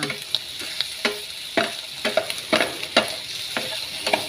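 Slices of Chinese sausage (kun chiang) fry in a dry pan with no added oil, giving a soft steady sizzle broken by repeated scraping stirs of a utensil, close and alone with no talk.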